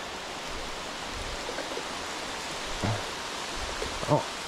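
Heavy rain from a storm pours down beside a river during carp fishing, a dense, constant hiss with a few soft knocks near the end.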